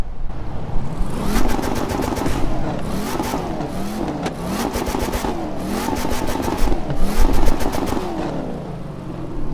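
Dodge Hellcat engine revving hard in The Crew 2 racing game, loud repeated throttle blips rising and falling in pitch with crackling pops between them, close and continuous.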